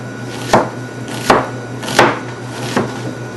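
A knife chops a big onion on a board with four evenly spaced, crisp thuds, close and distinct over a faint steady hum.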